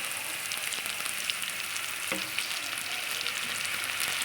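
Spices and chili powder fry in a pan for katla fish curry with a soft, continuous sizzle close by. A spoon stirs them with occasional scraping clicks, and no one speaks.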